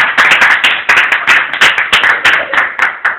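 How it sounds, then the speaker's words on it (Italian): A group of people clapping in a round of applause after a carbonara dish is presented, steady dense hand claps close by, with no talking. "Un applauso, un applauso."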